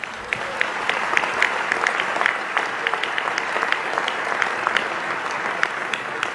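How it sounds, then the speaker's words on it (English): An audience at a charity dinner raising money for needy children in an archdiocese claps in a sustained, even round, many hands mingling into a steady wash with scattered sharper claps standing out. "We're supposed to clap now."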